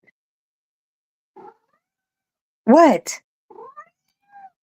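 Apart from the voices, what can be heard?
cat meowing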